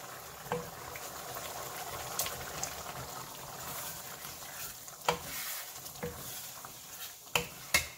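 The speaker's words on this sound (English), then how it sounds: "now we're going to add in our soft tofu" Soft tofu stirred into ground beef sautéing in a pan, giving a steady low sizzle and frying crackle with occasional spatula scrapes and taps against the pan.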